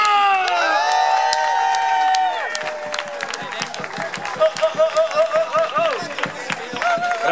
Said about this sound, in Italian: Fatevi un cazzo di applauso!